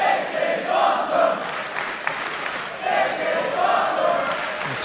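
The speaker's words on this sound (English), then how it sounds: "listen to this crowd" Wrestling crowd at the Coventry Sky Dome roaring and cheering after a Penta vs Rey Fenix bout, a loud swelling wall of voices with rising chant-like surges and scattered claps.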